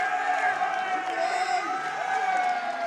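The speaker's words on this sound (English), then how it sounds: "you can hear, obviously, his fan base over here definitely cheering him on" Fans at the Classic Tetris World Championship cheer a player on, a steady crowd roar with whoops and scattered clapping that holds evenly throughout.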